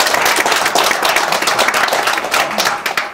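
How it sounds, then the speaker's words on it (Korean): A seminar audience breaks into applause, a burst of many hands clapping that stays loud and steady before thinning out toward the end, with no talk over it. "거기에 박수 한번 해주세요"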